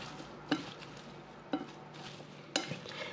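Vietnamese green mango salad with lots of cilantro is tossed and mixed in a bowl, three distinct clanks of the utensil against the dish repeating about once a second amid soft rustling.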